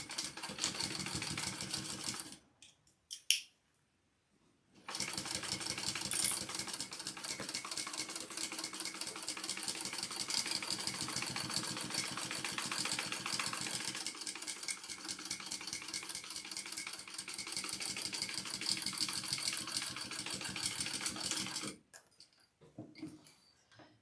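A sewing machine bastes a bag in long, rapid, steady stitching runs. A short pause comes early, the stitching goes on continuously up close, and it stops near the end.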